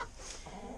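Red Isa Brown hens on a farm giving a short, soft cluck or two, faint and brief with no talk over it.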